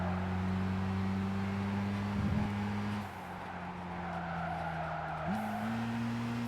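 Gran Turismo 5 racing game audio of the Volkswagen Golf GTI W12 650 concept, a twin-turbo W12 with about 600 horsepower, holding a steady droning engine note with a brief tire squeal and a rise in pitch as it shifts.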